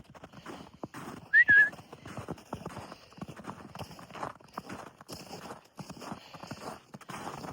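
Horse hooves clip-clop on a hard barn floor at an uneven walking pace, nearby, with a short whistle partway through.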